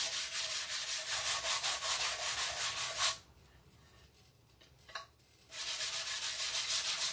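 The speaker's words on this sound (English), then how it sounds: "I am going over it, over all of it with my sanding" A wooden sign is sanded by hand with a sanding sponge in steady, quick back-and-forth rubbing strokes, close and soft, pausing briefly in the middle before resuming; no talking.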